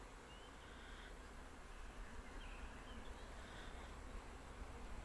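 Honeybees at a hive buzz in a dense, continuous drone that stays steady and close throughout, with no talking.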